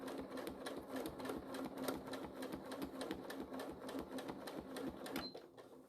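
A sewing machine runs steadily, stitching wool in free motion couching with a fast, even needle rhythm, close and continuous with a brief slowdown near the end.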